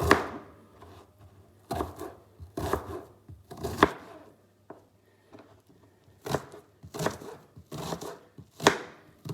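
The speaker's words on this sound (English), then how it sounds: "I chop up the onions first" Onions are chopped on a board with a knife, about eight sharp, close chops in irregular clusters with quiet pauses between them and no talking.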